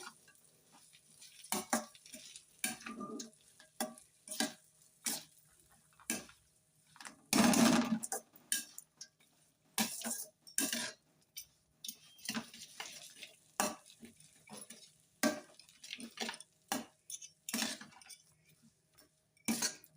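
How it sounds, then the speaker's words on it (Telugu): Cooked rice is mixed into tamarind paste in a pan for pulihora, giving repeated scraping and stirring strokes of a spoon against the pan, close and irregular, with one louder clatter partway through. "ఇప్పుడు రైస్ వేసుకొని కలిపేసుకుందాం"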